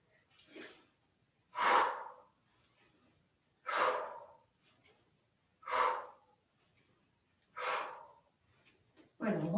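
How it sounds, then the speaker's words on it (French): Slow, deliberate breaths in and out during a qi gong routine, five or six loud airy exhalations spaced about two seconds apart in a quiet room, with no talking. "Inspire, expire."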